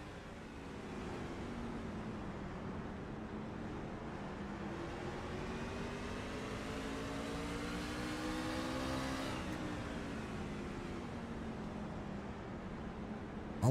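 Truck engine in a sim racing game at Martinsville, revving steadily with rising and falling pitch throughout, loud and continuous with no talk.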